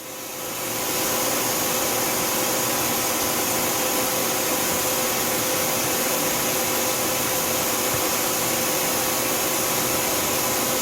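A 2011 Tsugami S206 CNC Swiss lathe spindle spinning up and holding at 2,500 RPM, a loud, steady whirring hiss with a faint tonal whine that stays constant once up to speed.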